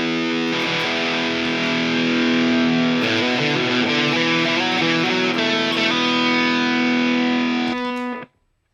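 An EHX Freeze pedal holds a sustained, distorted guitar drone with dense steady harmonics for about eight seconds, shifting chords partway through before cutting off abruptly.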